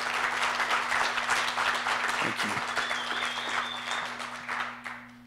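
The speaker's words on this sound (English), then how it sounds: "Let's give a round of applause to these people that set this up." Sustained applause from a room full of people at a day-two mastermind gathering in Tahoe, dense and steady before tapering off near the end, with a voice briefly speaking over it.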